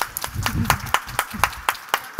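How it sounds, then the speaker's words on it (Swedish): A small audience claps as a panelist is welcomed on stage, sparse, distinct hand claps in a loose rhythm, fairly close and moderate in level. "Jag tycker hon är värd en applåd."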